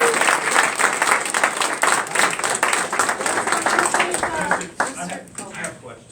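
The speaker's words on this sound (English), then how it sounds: "Another round of applause." Applause for a group of students at a school board meeting, dense clapping throughout with voices talking over it, thinning toward the end.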